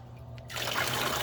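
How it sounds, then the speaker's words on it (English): Water trickles steadily from the bleed line of a DIY swamp cooler once it starts up, a soft continuous dribble that sets in after a brief quiet hum and carries on without pause. "We'll go ahead and fire it up to show you that the water will be coming out."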